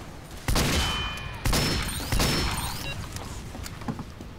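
Sharp revolver shots from the Ambassador in Team Fortress 2, three loud close cracks at roughly even spacing, each with a ringing metallic tail, set against a busy game background.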